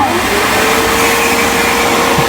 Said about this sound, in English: then literally suck it up with the hoover